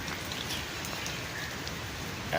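Heavy rain falling in a village: a steady, even wash of dense raindrop patter on surfaces, moderately loud and continuous, with no voices.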